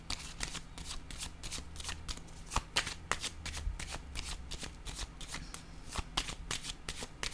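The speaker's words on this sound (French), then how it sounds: "Je vais déposer une carte sur ces trois-là." Tarot cards rustle, slide and snap down on a table in a steady run of crisp, close taps and shuffles, with no voices.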